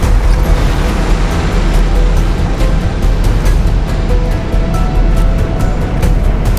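Go-kart engines roar loudly and steadily at the start of a Sodi sprint race at Daytona Milton Keynes, a dense, constant drone with no pauses and no talk.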